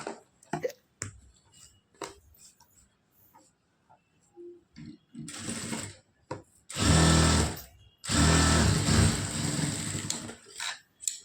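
Sewing machine stitching a hook piece on a lined blouse, running in a couple of bursts of a few seconds each after scattered clicks and handling noises, fairly close.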